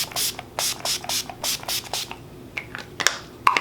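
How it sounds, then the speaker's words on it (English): A can of makeup setting spray is shaken with quick rattling bursts, then gives short sprays toward the face, close and distinct, ending with a few softer hisses and clicks. "I'm just gonna shake this up and spray it all over my face"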